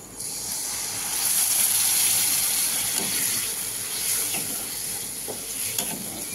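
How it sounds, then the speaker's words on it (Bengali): Gravy liquid goes into a sizzling curry pan of half-cooked brinjal masala, giving a loud, steady hiss and bubbling sizzle up close, with a few stirring knocks. "কষা, এবার আমি দিয়ে দিচ্ছি ঝোল"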